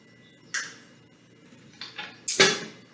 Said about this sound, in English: And then we are going to stir.